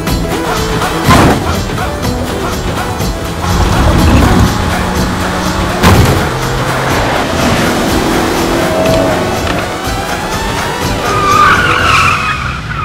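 Car racing at speed in a Bade Miyan Chote Miyan action movie scene, tyres skidding and squealing repeatedly amid loud engine roar and impacts, with sweeping screeches building toward the end.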